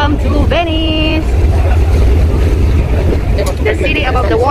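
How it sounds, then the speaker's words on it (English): Venice water bus motorboat engine droning steadily from inside the vessel, with a constant low rumble and water wash, while a person talks over it in short bursts. "So we are here now inside the water bus."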